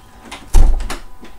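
A door is pushed open nearby with one loud thud, followed by a few lighter knocks and rattles as it swings.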